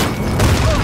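A grenade blast in a multiplayer shooter game, a brief loud booming burst with crackling debris that fills the whole moment, close and dense.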